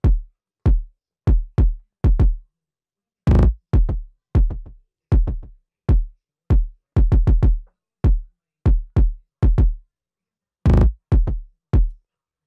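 Punchy kick drum from a beat mix, pushed through a soft clipper, thumps alone in short, tight hits at an irregular groove, with bursts of quick doubles and silence between.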